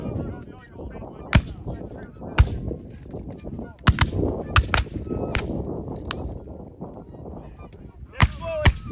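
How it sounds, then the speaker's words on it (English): Rifle volleys at a Gettysburg encampment shooting demonstration: sharp, loud cracks at irregular intervals, about six or seven shots including a quick burst near the end, over a bed of crowd murmur and talk. "then you're going to shoot 3 rounds as fast as you can"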